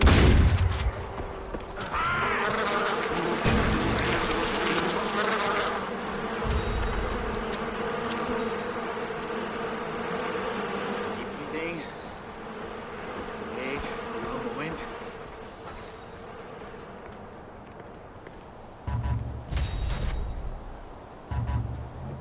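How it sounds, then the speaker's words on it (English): Killer bees in the video game Far Cry 4 produce a dense, continuous swarm buzz throughout, layered with game effects and bursts of gunfire-like booms near the end. "There's killer bees!"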